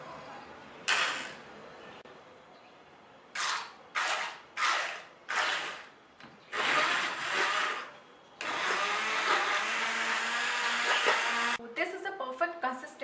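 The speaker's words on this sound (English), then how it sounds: "Now we are going to blend it using a hand blender." A hand blender blending aloe vera gel whirs in repeated short bursts, then runs continuously for several seconds before stopping, with brief clattering at the end.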